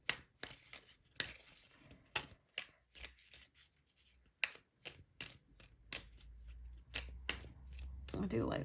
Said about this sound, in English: I do like these diddy little cards. So much easier to shuffle.